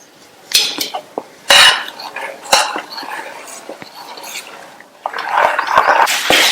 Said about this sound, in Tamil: நல்லா மிக்ஸ் பண்ணியாச்சு.